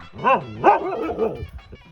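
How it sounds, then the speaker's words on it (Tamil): A dog barks three times at close range, each yelping bark loud and tonal with short gaps between them and no talk over them. "நாய் குலைக்குது."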